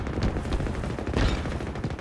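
Rapid gunfire in Halo Infinite multiplayer, a dense, loud run of shots and bursts that continues through the whole stretch with no pauses.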